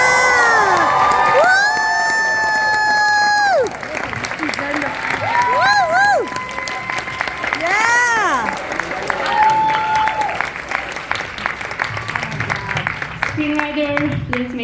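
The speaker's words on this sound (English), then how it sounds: "Please, let's keep the cheer going." A film Q&A audience at a NONNAS screening bursts into loud sustained applause and cheering, with whoops and high shouts ringing out over the clapping as a host's voice carries through the crowd.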